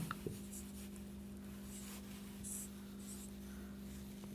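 A pen scratches briefly on paper while an equation is written out during a class 10 maths lesson, faint light strokes over a steady low electrical hum in a quiet room.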